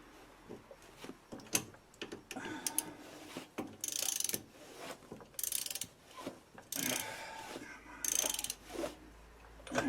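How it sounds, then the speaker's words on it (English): A ratchet tightens the top nut on a rear wheel bearing hub of a Chevrolet Traverse, its clicking arriving in several quick bursts separated by brief pauses, close by in a quiet garage. "You hold the top nut. Put the ratchet on there."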